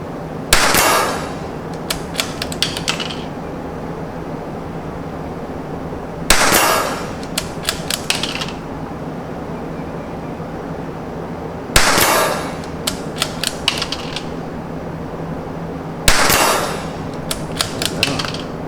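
.22LR rifle fire from a CZ and a Tikka comes in four separate loud bursts: each opens with a sharp crack followed by a quick string of clicking, snapping reports, with quiet gaps between bursts.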